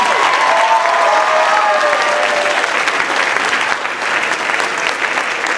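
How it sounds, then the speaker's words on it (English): A theatre audience applauds the sound crew at a community musical production, sustained loud clapping from many hands filling the room for several seconds, with faint voices and a few whoops briefly rising through the first half. "So one more round of applause for the sound crew."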